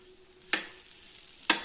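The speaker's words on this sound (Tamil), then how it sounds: "நம்ம கடைசியாக ஒரே ஒரு ஒரு கரண்டி நெய் விட்டு ஒரு கிளறி கிளறிக்கலாங்க" Ghee poured into ragi upma frying in a pan and stirred: a steady soft sizzle with two sharp, close scrapes of the spoon about a second apart, with no voices.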